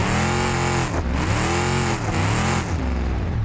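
A car drifting in a driving simulator racing game played on a home-built rig from a Volvo, with a Cadillac steering wheel: loud continuous engine roar rising and falling in repeated revving sweeps, close and steady, with no voices.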